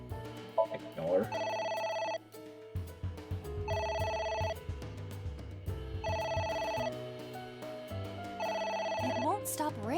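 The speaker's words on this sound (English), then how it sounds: "A phone. Should I pick it up?" A telephone rings in the video game AI: The Somnium Files, repeated electronic ring bursts in a steady rhythm over a looping game music bed, loud and close, with no talking during the ringing.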